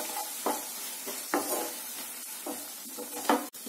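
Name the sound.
spice masala being sautéed in a pan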